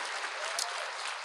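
Audience applause at an evening chapel service of a Christian school retreat: a dense, steady wash of many hands clapping together, even and continuous with no talking.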